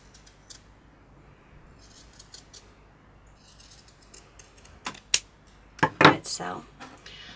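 Scissors snipping excess fabric from a hand-sewn sock doll, several close crisp cuts clustered near the end after a quiet stretch with faint handling sounds.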